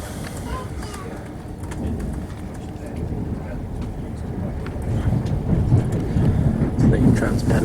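Train running non-stop through York on a morning service, a steady low rumble of wheels and carriage noise building slightly louder toward the end, heard from on board with faint background voices.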